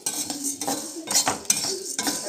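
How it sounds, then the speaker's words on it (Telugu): Urad dal and chana dal fry in a pan for bisi bele bath, with a steady background sizzle broken by repeated clinks and scrapes of a metal spoon stirring against the pan, close and fairly loud, with no talking. "ఈ విధంగా ఉద్దిబేడలు బాగా వేగిన తర్వాత శనగబేడలు వేసుకోండి."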